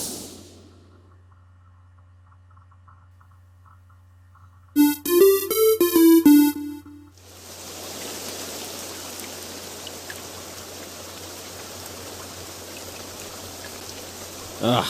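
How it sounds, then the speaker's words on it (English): Steady rain falling in a Roblox game, a dense broadband hiss that sets in after a short burst of melodic tones and then runs on evenly and loud to the end. "This rain is so annoying."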